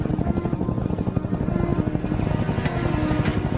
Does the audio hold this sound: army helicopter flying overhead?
yes